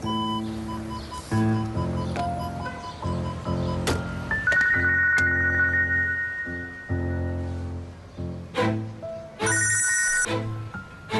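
A telephone rings in repeated electronic bursts over a swelling musical score in a TV drama, fairly loud and close.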